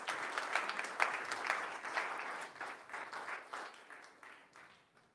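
Applause from a church congregation, a dense run of many hands clapping at moderate distance that thins and fades toward the end. A faint voice may sit under it.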